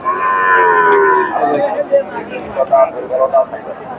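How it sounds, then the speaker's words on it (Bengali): A Friesian heifer lets out one long, loud moo at a cattle market in Bogura, Bangladesh, then a crowd murmurs and chatters close by. "ফ্রিজি জাতের বকনা"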